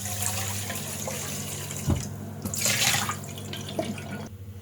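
Water runs from a kitchen tap while dishes are washed up during pasta salad preparation, with a steady splashing stream, a few clinks and drips, and a brief louder gush near the middle.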